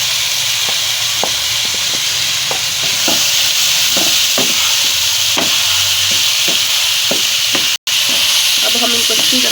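Mash and chana lentils tumble into hot oil in a frying pan, giving a loud, steady sizzle with scattered stirring scrapes and clicks throughout and a brief dropout near the end.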